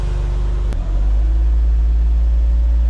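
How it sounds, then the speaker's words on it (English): A Suzuki Cara's radiator fan clicks on with a brief sharp tick, then a steady low motor hum and whir settle in and continue loudly alongside the car's engine drone. "The radiator fan kicked on."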